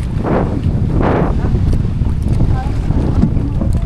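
Steady wind roars and buffets across the microphone on a boat on a river heading into the wind, with a couple of voices speaking briefly underneath.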